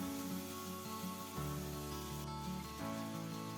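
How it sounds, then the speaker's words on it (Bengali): Raw papaya and potato pieces frying in oil over a medium flame, giving a steady close sizzle with soft crackle and spatter that shifts in texture a couple of times as the pan is stirred, with no voices. "আমি তিন চার মিনিট সময় নিয়ে পেঁপেগুলোকে একটু ভেজে নিচ্ছি"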